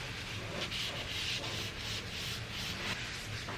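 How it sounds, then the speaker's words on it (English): Steady close rubbing and scrubbing on the rusty metal surface of an old wood stove, a continuous soft abrasive hiss with gentle rhythmic strokes and no talking. "just rub this down until I make sure it really feels like the rust is gone as much as I can before I do the treatment"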